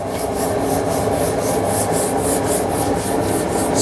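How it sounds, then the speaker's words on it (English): Steady, continuous rubbing of 400 grit sandpaper across a lacquered subwoofer box, with rhythmic back-and-forth strokes close up and fairly loud, no voices. "This is a 400 grit sandpaper."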